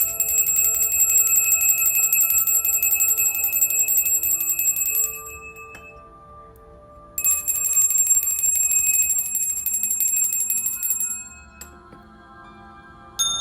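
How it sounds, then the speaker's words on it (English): Bells rung in rapid sustained bursts, a bright shimmering metallic ringing that stops for a couple of seconds, resumes, then fades to lingering tones near the end. "I'm gonna ring my bells to bring in some of that grounded energy"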